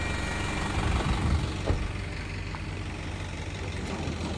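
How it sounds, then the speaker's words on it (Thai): A heavy truck engine rumbles nearby, a steady low drone that swells slightly early on and then holds constant. "เร่งเครื่องขึ้นนิดหน่อยนะครับ"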